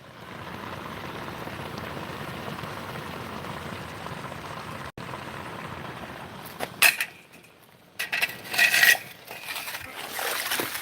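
Molten casting metal left in a pour bubbles and seethes steadily on its own, a dense continuous rolling boil, then breaks into sharper crackling spits and sputters toward the end.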